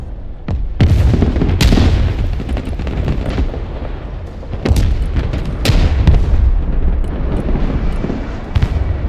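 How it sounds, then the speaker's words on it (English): Artillery and gunfire in Broken Arrow, a loud cluster of heavy booms and sharp cracks with rumbling tails, bursts recurring irregularly over a dense battle din. "Wait a second while I reload and fire my next artillery piece."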